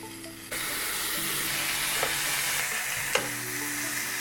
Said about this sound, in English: We're gonna start grilling and I'll show you guys what it looks like on the grill.